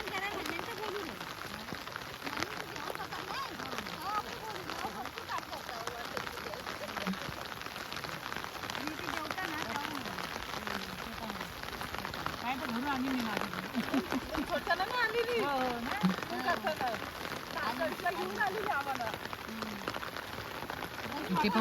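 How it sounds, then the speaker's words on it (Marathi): Heavy rain falls steadily across paddy fields in Konkan during rice transplanting, a dense continuous hiss of drops on water and surfaces with people talking faintly throughout. "भर पावसामध्ये पाऊस खूप आहे."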